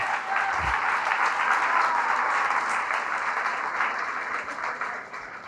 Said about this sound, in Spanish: Fuerte ese aplauso a Jesús